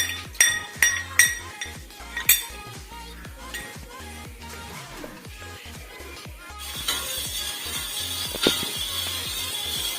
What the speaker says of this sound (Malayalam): ബാക്കി പാല് നമുക്ക് കാച്ചാൻ വയ്ക്കാം അതിലേക്ക് കട്ട കെട്ടാതെ കരക്കി വെച്ചിരിക്കുന്ന കോൺഫ്ലവറും കൂടി ചേർത്ത് കൊടുക്കാം